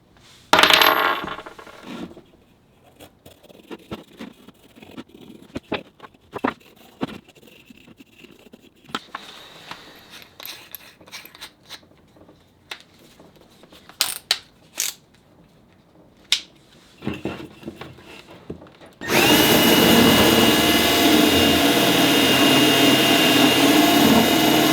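A burr bit spins into a 2x4 to hollow out an oval, with scattered clicks and handling knocks at first, then a loud, steady, harsh grinding whir that runs without a break through the final stretch.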